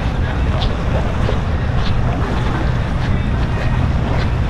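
A boat moving across water off Boracay, with a steady rumbling engine and wind and water noise filling the background.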